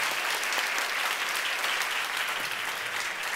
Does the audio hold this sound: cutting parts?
no